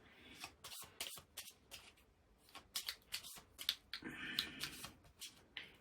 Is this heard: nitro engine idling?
no